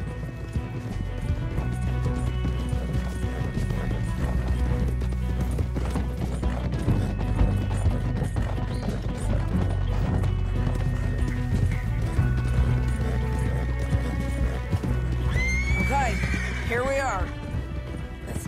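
Horses gallop with rapid clip-clopping hooves and a whinny near the end in the Red Dead Redemption 2 video game, heard over steady music and voices.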